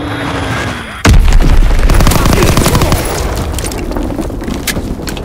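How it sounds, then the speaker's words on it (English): Bomb explosions and gunfire from Call of Duty WW2 multiplayer on the Aachen map: a sudden loud blast, followed by dense bursts of rapid gunfire and rumbling booms that continue steadily to the end. "Enemy bomb incoming!"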